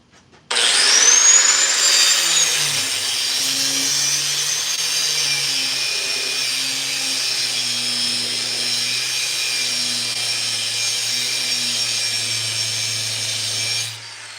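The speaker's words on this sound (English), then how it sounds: "then we're gonna go to the belt grinder, and I'm gonna clean up the profile" A belt grinder shapes a knife blank forged from a farrier's rasp, starting abruptly and running as a loud, steady abrasive whine with a low motor hum for about thirteen seconds before stopping.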